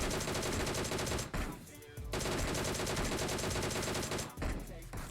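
Rapid gunfire spray in the mobile battle royale BGMI, a dense, loud continuous burst of automatic shots with two brief pauses between volleys.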